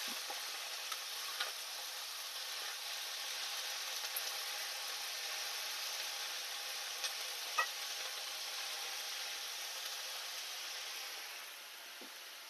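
Green leaves fry in hot oil in a pan, giving a steady close sizzle with faint crackles and occasional small pops throughout, easing slightly at the end; no talk.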